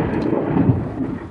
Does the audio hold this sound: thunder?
yes